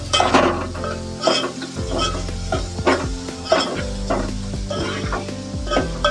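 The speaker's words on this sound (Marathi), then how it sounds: "आता कांदा भाजून घेऊया चांगला." Onion frying in a pan for chicken liver sukhi, a steady sizzle broken by repeated scraping stirs of a spoon against the pan, close and continuous.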